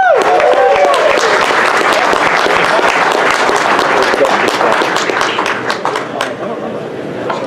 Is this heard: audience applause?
yes